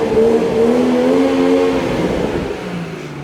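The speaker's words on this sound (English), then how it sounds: "just give you a bit of a rev of it so you can hear the exhaust." A modified BMW 440i M Sport with M Performance kit revs through its exhaust, a loud close rising snarl that peaks and then settles back toward idle, heard on its own without talk.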